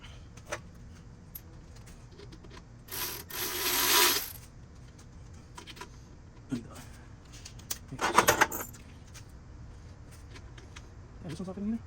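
Ratchet tightening bolts during a Vortech supercharger install on a Ford Mustang GT, heard as two short bursts of quick metallic clicking a few seconds apart, fairly close, over quiet garage background.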